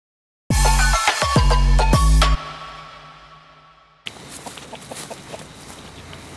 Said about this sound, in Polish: Uciekające kurczaki.